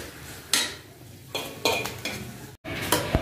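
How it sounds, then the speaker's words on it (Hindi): Squeezed grated carrots drop into hot ghee in a kadhai, giving several close, sharp bursts of sizzling and stirring scrapes with short pauses between them; no one speaks. "सारी गाजर जो है उनको निचोड़ के कढ़ाई में डाल दिया है"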